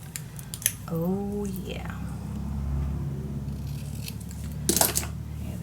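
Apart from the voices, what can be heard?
cutting paper with scissors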